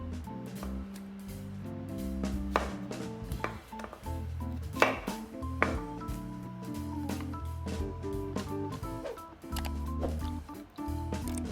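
A knife chops vegetables for Thai curry on a cutting board in quick, uneven knocks, close and fairly loud throughout.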